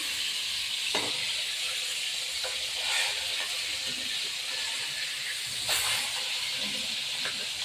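Rohu fish pieces fry in hot oil with a continuous crackling sizzle, broken by a few sharp clinks and taps as pieces are turned or lifted, no speech.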